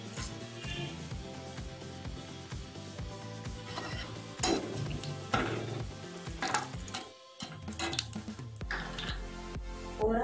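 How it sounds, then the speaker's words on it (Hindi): Whole spices sizzle in hot oil for a bhindi masala gravy, a soft steady fry broken by several sharp clatters and scrapes of stirring in the pan, with no talking. "तेल गरम हो चुका है, अब हमारे जो खड़े मसाले हैं इन्हें मैं डालूंगी।"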